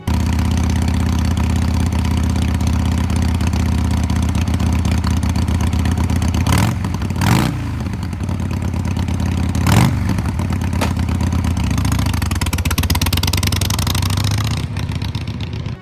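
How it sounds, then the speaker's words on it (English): Harley-Davidson Sportster motorcycle engine idling close by with a lumpy, rumbling beat, broken by several sharp throttle blips that rev up and fall back. "Let's get a sound clip of the sporty before we let it go into the great beyond."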